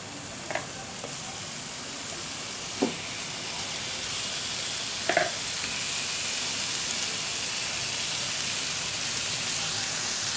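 Fish pieces frying in hot oil for fish biryani, a steady soft sizzle with a few faint clinks of a utensil against the pan.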